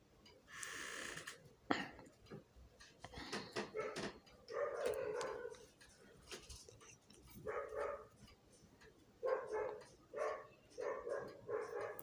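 Dogs bark in Cairo, a series of short, sharp barks and yips in irregular bursts that sound moderately distant, with no voices over them.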